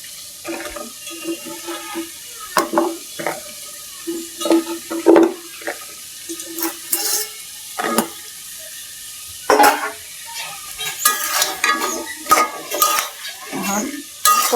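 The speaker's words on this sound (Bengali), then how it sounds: "এখন এটার মধ্যে পটল আর আলুগুলা দিয়ে দিলাম" Pointed gourd and potato pieces are stirred and fried in a cooked spice paste for Bengali rohu fish curry, with repeated scraping and clattering of the spoon against the pan over a soft sizzle.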